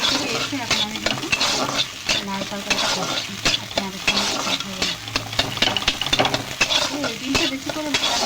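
Bottle gourd curry frying and being stirred in a pan, a steady close sizzle broken by frequent scraping strokes of a spoon against the metal throughout.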